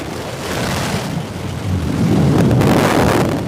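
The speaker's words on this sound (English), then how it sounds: "There's the relight of that BE-3 engine." The BE-3 engine of a Blue Origin New Shepard booster relights during descent, a heavy, rushing roar with deep rumble that swells and grows louder partway through, heard alone without voices.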